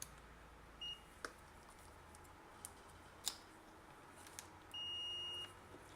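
A multimeter gives short electronic beeps while being checked on a switched-mode power supply's mains wiring: a brief tone near one second, then a longer steady beep around five seconds, over quiet background with a few faint ticks.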